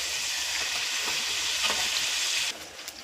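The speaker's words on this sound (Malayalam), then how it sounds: "അപ്പം നമ്മുടെ ചിക്കൻ ഒരു വശം മൂത്ത് വന്നിട്ടുണ്ടായിരുന്നു." Chicken sizzles steadily in a hot pan while being fried for mandi, a dense continuous frying hiss that drops in level near the end with a few brief stirring clinks.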